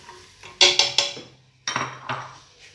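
A spoon stirs chopped onion in a cooking pot, giving several sharp metallic clinks and scrapes in two short bursts, close and fairly quiet, with no talking.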